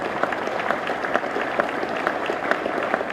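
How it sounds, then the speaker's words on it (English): A room full of people gives a quick round of applause at a panel event, steady dense clapping throughout at moderate volume with no voices over it. "let's give them all a quick round of applause"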